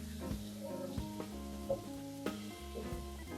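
Tomatoes, peppers and corn sizzle in a hot frying pan while being stirred, with a steady fry and soft scraping and knocking throughout, and no talking.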